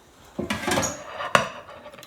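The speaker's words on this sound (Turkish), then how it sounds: "Şimdi servis tabağım alıyorum" A ceramic serving plate clinks and clatters as it is picked up and set down in a home kitchen, giving two or three sharp close knocks with brief rattling between them, with no talk.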